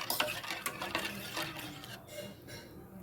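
A spoon stirs palada payasam of milk, rice ada and sugar in a pot, giving a run of quick scraping clinks that soften toward the end, close up.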